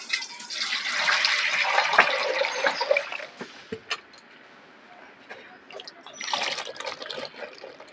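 Water is poured into a bowl for washing cut water lilies, a close splashing gush that eases off midway and then surges again toward the end.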